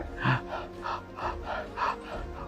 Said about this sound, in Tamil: வாயை திறந்துட்டு மூச்சு விடுங்க